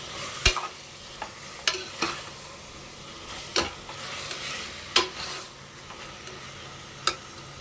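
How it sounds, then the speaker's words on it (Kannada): Vegetables with ground masala fry in a pan for a vegetable pulao, a soft steady sizzle broken by sharp scraping clicks of a spoon against the pan every second or so. "ಈ ಮಸಾಲೆ ಎಲ್ಲ ಹಸಿ ವಾಸನೆ ಹೋಗೋವರೆಗೂ ನೀಟಾಗಿ ಈ ತರಕಾರಿ ಜೊತೆ ಫ್ರೈ ಮಾಡಬೇಕು"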